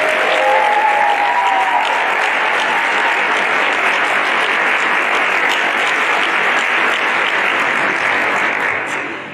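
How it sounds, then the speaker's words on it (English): A graduation audience at a chiropractic college commencement gives a loud, sustained round of applause, an even wash of clapping that holds steady and then tapers off at the close. "Let's give them all a big round of applause."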